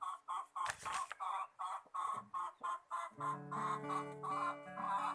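Chickens in a garden, a hen searching for a place to lay, give a steady run of rhythmic clucks, fairly close and clear, with a low tonal hum entering partway through.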